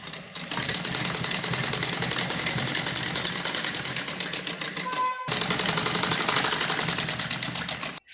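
A sewing machine stitches an umbrella frock in a fast, steady mechanical rattle that runs continuously, pauses briefly, then resumes before stopping, loud and close.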